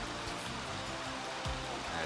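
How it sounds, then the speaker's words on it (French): A small mountain stream flows steadily in a natural spot, giving a close, continuous broadband rush of water with a brief low splash near the middle and no talk. "Le bruit de la rivière."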